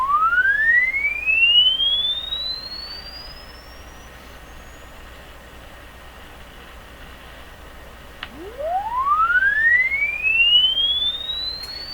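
A pure sine tone from a computer sweeps upward in pitch over a few seconds, fades, then a second rising sweep starts lower and climbs again, clear and alone over faint background hiss, played through a Canadian Crosley 12B radio.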